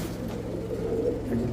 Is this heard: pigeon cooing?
yes